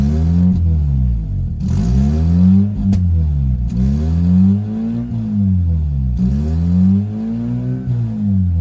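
A neglected Mazda RX8 rotary engine revs roughly and unevenly, with repeated loud rising and falling revs in a wavering cycle, close by and alone.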